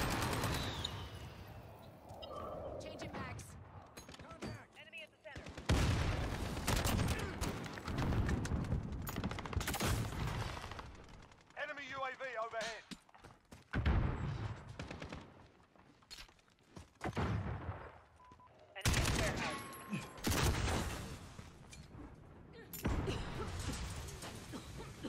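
Call of Duty Modern Warfare 2019 multiplayer gunfire: repeated heavy shotgun blasts and rapid shots in loud bursts, separated by short quiet gaps, with a faint voice now and then.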